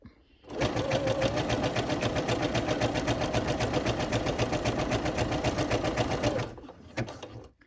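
A sewing machine runs a zigzag stitch attaching elastic to a bodysuit, producing a loud, fast, steady mechanical rattle for about six seconds before stopping abruptly.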